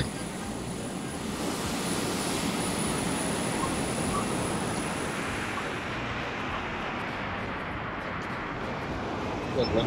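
Aircraft engine in the Arma 3 video game, a steady broadband roar drone held loud throughout while flying, with a faint high whine fading near the end.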